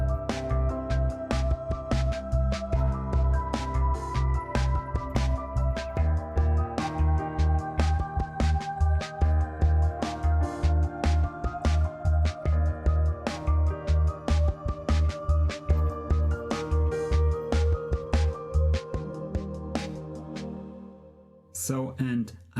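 A rock arrangement with drums, bass and synth parts whose sound shifts partway, steady pulsing beats under layered tones, easing into a small break near the end, fairly loud with no voices.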